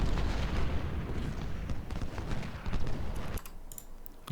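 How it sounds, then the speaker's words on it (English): Heavy cannon fire rumbles through the video game Ultimate General: Civil War, a thick booming roar with overlapping shots that thins out near the end. "They should now be getting attacked in the back by cannon, so they should rout pretty quickly."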